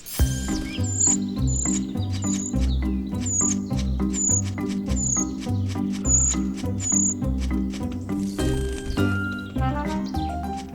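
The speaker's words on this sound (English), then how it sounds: "The juvenile starlings are almost the size of adult birds." Juvenile starlings call from a nest hollow in a tree, a row of short, high, thin chirps repeated at a steady pace over continuous rhythmic music.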